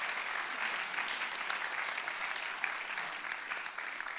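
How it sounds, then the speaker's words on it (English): An audience gives a round of applause, a dense, even patter of many hands clapping that holds steady throughout and sounds fairly distant and soft. "give her a round of applause"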